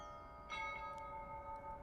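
A church bell in Kyiv chimes with a sustained, ringing metallic tone and a second strike partway through, faint and distant over low background noise.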